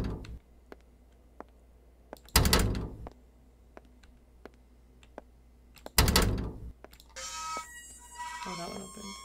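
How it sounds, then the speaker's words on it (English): A heavy door in an indie horror game opens with two loud creaking, scraping bursts several seconds apart, over quiet ticking ambience, followed by a muffled voice. "Such a loud door opening sound."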